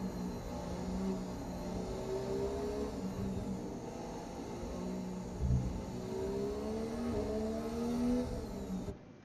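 Formula 1 car engine in F1 2017 at Monaco, a steady mid-level whine with pitch sweeping down through rapid downshifts and climbing again under acceleration, with a brief thump partway through.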